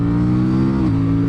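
Aprilia Tuono 457 motorcycle with a 47-horsepower parallel twin engine, heard close and loud as a steady throbbing idle or cruise that shifts pitch slightly partway through.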